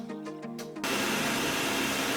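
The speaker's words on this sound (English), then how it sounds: "So now that they're boiling, we're going to put them into a blender." A blender whirs loudly with boiled chilies and water inside, starting abruptly after a short stretch of quieter motor tones and then running steady and close for the remainder.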